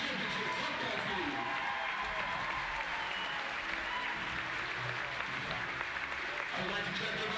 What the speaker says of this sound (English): Give round of applause for the Lady Bobcat State Championship softball team.